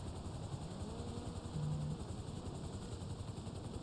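A helicopter in the video game GTA Online whirs steadily with a low, continuous rotor drone and engine hum, moderately loud and unbroken, with no one talking.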